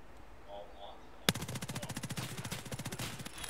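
Video game gunfire from flechette shotgun rounds starts with a sharp crack, then a rapid, evenly spaced string of close, punchy shots rattling on steadily.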